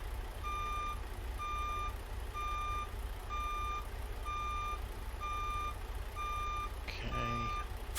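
A Peterbilt 389 truck in American Truck Simulator backs up toward a trailer, its reversing alarm sounding eight evenly spaced beeps over a low engine rumble, with a brief hiss near the end.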